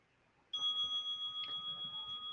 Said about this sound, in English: Hear the sound of the bell and let it take you deeper inside.